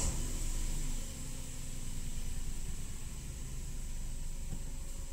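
An Opel Corsa three-cylinder engine runs at a steady idle after starting, a constant broadband hum with a slight drop in level about a second in, heard alone with no talking.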